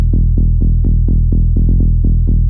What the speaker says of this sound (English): Before the EQ sounds like this